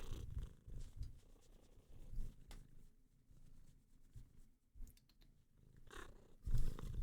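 A house cat purring close to the microphone, a faint, rumbling, continuous purr with slight swells throughout, no voices.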